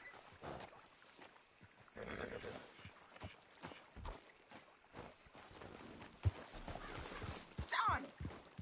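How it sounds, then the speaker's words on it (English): Horse hooves clip-clop in Red Dead Redemption 2 during a horse race, a steady rapid gallop with occasional whinnies and game ambience, with speech mixed in. "Damn horse acting up on me of all the times."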